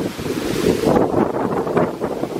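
Strong wind buffets the microphone near a road underpass, a loud, continuous rushing roar that surges and eases with no voices.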